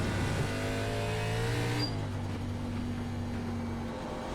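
A race car in the iRacing ARCA Menards Series sim, its engine holding a steady tonal drone with a brief upshift midway, loud and close and heard alone without talk.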